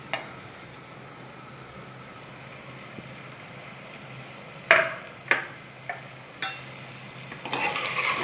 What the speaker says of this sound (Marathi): आणि आता आपल्याला हे चांगलं फिरवून घ्यायचं